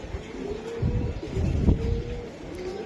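Several racing pigeons coo at a steady low level in a loft, their murmuring calls swelling briefly midway, with no voices.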